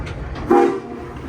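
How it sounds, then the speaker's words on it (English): A steam locomotive whistle sounds once at the Rail Giants Museum, a short tonal blast rising over a rumbling railway background, fairly close and loud. "now I'm gonna get the whistle"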